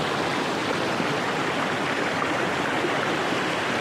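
A stream flows through a forest in a steady, continuous broadband rush of water, close and loud with no voices.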